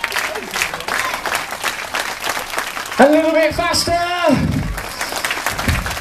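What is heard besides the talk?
audience clapping in time to juggling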